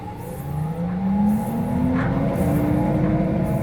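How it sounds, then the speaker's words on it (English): A cooling tray fan on a coffee roaster runs with a continuous whirring drone, its tone slowly climbing as it spins up over a dense low rumble, loud and close with no voices. "And then the cooling fan for the tray sounds like this."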